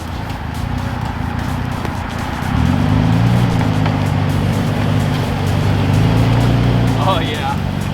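A Toyota truck, half ceramic coated, pushes through roughly eight-inch-deep mud off road, its engine droning loudly and close, then rising to a stronger, sustained rev partway through as it powers along.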